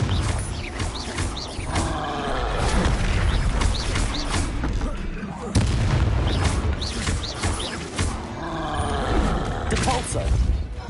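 Confringo fire spell blasts in the Hogwarts Legacy video game, a loud continuous run of booming explosions with rumbling, creaking mechanical noise, close and dense with no pauses.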